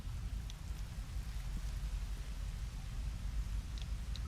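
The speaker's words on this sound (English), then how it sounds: "the rain is just about to hit" Rain pours down in the video game Rain World as a constant, dense hiss over a deep low rumble, with a few faint drip-like ticks and no talking.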